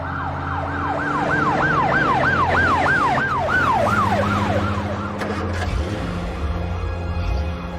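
A wailing ambulance siren at an emergency scene after a shooting, loud and close, sweeping up and down in steady repeated cycles over a low engine rumble before it fades near the end.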